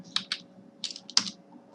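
Fingers tap out a few quick keystrokes on a computer keyboard, heard close and crisp in short clustered bursts with brief pauses between them.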